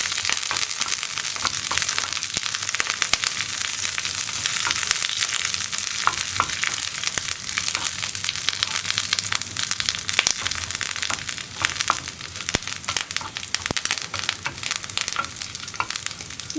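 Onions, dried red chillies and curry leaves sizzle and crackle in hot oil in a pan as they are stirred, giving a continuous bright frying hiss broken by scraping stirs and sharp pops, with no voices.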